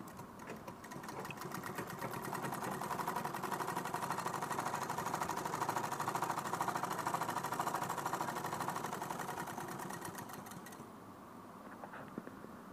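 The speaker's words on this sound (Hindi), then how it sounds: "तो अब इसको हम देखते हैं कि हमारी मशीन सिलाई कैसी दी है" A sewing machine stitching after a repair to its lower thread tension, running as a steady, fast, even mechanical whir close by for about ten seconds before winding down, with no talking.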